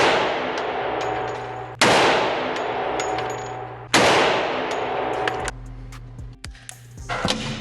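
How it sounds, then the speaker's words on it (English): Suppressed FNX-45 pistol fired single action at a range, two sharp loud shots a couple of seconds apart, each with a ringing decay, followed by metallic clinks and handling noises. "So I'm gonna do 3 rounds at a time until I'm happy with where those are landing."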